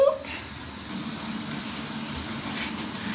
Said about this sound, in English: All right, y'all, getting in the shower.